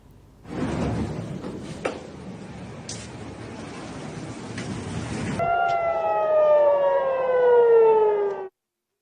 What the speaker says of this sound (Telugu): టెల్ అవీవ్, జెరూసలేంలో వార్నింగ్ సైరన్స్ ఏకధాటిగా వినిపించాయి